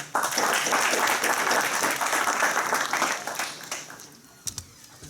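Crowd applause after a campaign speech at Bowie State University, steady and dense for a few seconds, then dwindling into scattered claps and a few stray sounds as it dies away.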